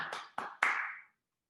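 Three quick hand claps of virtual applause during an online graduation webinar, sharp and close, the last one ringing out briefly before silence.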